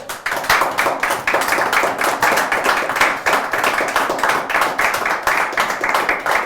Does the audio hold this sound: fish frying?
no